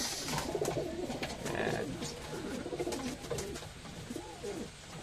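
Pigeons cooing close by in a loft, several soft overlapping rolling coos with light fluttering and rustling, under faint background noise.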